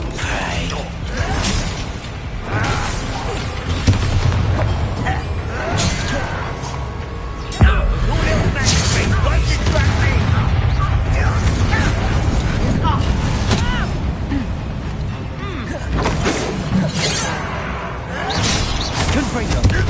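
Explosive spells going off in the Hogwarts Legacy video game, dense crackling blasts, booms and grinding clatter that run loud and continuous for about twenty seconds.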